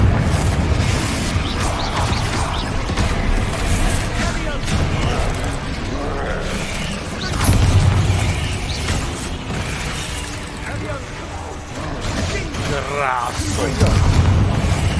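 Repeated Confringo fire-blast explosions in the Hogwarts Legacy video game boom and pop through a busy, continuous battle mix, fairly loud, with periodic heavier blasts and a voice present.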